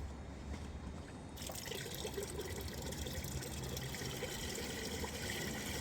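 Gasoline is poured into a bucket holding about four gallons of used motor oil, giving a steady liquid trickle that starts abruptly after a quiet moment and runs continuously close by.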